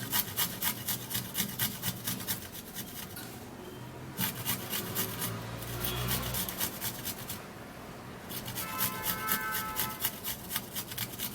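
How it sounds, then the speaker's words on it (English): Tiny garlic cloves being grated on a hand grater, a quick rhythmic rasping of repeated strokes in steady runs with two short pauses, close but fairly soft, with no voices. "now I would have to be using a grater to grate it because it's actually tiny"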